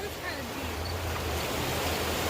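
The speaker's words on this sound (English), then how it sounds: "the river is actually raging pretty heavily" A river raging in flood, heard from a low bridge only a few feet above the water, roars as a steady, loud broadband rush with a deep rumble, continuous for the whole stretch.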